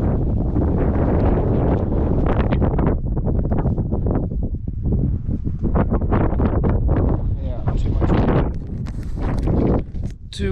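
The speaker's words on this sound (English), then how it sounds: "Too windy for sure, so that's a little shame." Strong, steady wind on a snowy mountain top roars and buffets the microphone throughout, loud and continuous with gusty surges.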